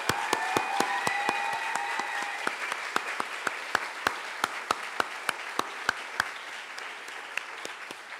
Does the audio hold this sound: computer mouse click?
no